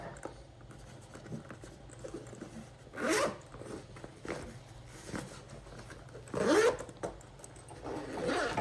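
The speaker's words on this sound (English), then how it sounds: "Got a zipper in the back for like a wallet and stuff like that." Two quick zipper pulls on the back pocket of a compact everyday-carry bag, a short rasp followed later by a longer one, with faint handling rustles between them.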